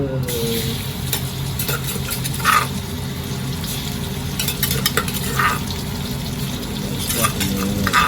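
Chili and garlic stir-fry in hot oil in a pan, a continuous close sizzle with scraping stirs and occasional spatula clinks, and no talking over it.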